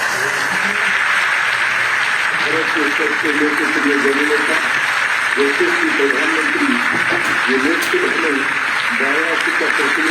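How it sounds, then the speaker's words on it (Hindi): An audience applauds at a national education gathering inaugurated by the Prime Minister in Varanasi, a broad steady clapping that runs under a voice speaking over a loudspeaker. "आप सब अपनी भावनाओं को तालियों के माध्यम से मंच तक पहुंचाएंगे।"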